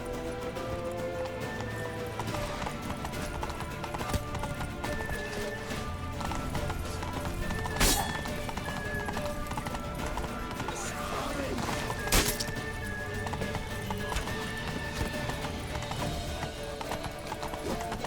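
A horse in The Witcher 3: Wild Hunt gallops with rapid, continuous clip-clop hoofbeats and occasional whinnies, while a voice talks over the steady drumming.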